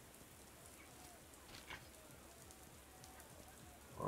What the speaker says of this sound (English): Oh, it's even raining.